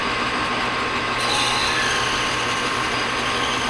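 A half-inch drill bit bores a larger clearance hole in a shop, giving a steady, loud, continuous grinding whir with a rattling mechanical texture throughout, with no talking.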